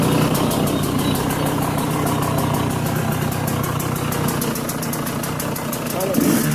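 A KTM two-stroke motorcycle with a large exhaust idles loudly and close, a continuous buzzing rattle with a fast regular pulse that stays steady throughout.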